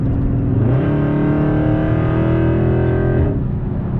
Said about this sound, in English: It's gonna rev out basically on the shifts.